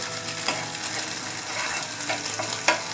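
Instant noodles and egg stir-frying in a pan, a steady close sizzle that runs the whole time with a few sharp scrapes and taps of a utensil against the pan, no talk.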